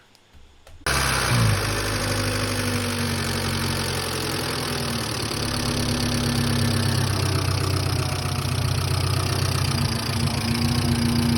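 A Hyundai car engine with a ticking fault starts up and idles steadily, a loud close rumble with a fast, faint ticking running through it and no talk.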